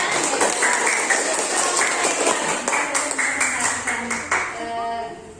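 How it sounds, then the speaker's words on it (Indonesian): Students in a classroom clap together after a group activity, a burst of sharp, fairly close claps that thins out over a few seconds, with a voice speaking near the end. "Beri tepuk tangan ya"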